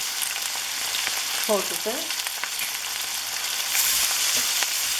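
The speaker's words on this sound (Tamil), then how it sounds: "இந்த ஃப்ரை பண்ணிக்க மூடி விடுறேன்" Crab curry sizzles steadily in hot oil with salt and turmeric, Jaffna style, a dense crackling hiss that runs throughout, with a brief voice speaking partway through.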